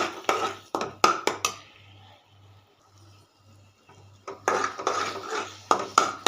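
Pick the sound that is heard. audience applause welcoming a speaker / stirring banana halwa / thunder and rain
stirring banana halwa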